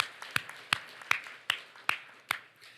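A church congregation claps in unison, seven sharp, evenly spaced claps at a steady brisk beat, heard from a distance and fairly faint.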